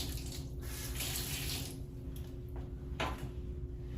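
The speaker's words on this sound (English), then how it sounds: "Go ahead and rinse your thermometer" A thermometer being rinsed under a running tap into a sink for roll-film processing, with a steady faint stream of water and brief splashes as the flow changes, plus a low background hum.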